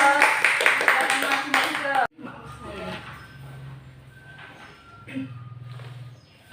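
An audience claps for a presenter at a group teaching-performance session, a dense burst of clapping for about two seconds that cuts off abruptly, followed by quieter room sound and murmuring voices.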